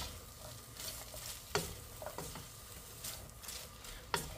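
Cabbage and carrots stirred into cooked chicken in a pan for a miki bihon noodle dish, with a soft continuous sizzle and scraping utensil strokes, a couple of sharper clacks standing out, quiet and close.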